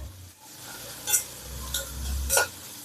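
Ingredients for a Nagercoil-style chickpea curry stirred and frying in a pan: a steady low sizzle with several sharp scraping strokes of a spoon against the pan, close and fairly quiet.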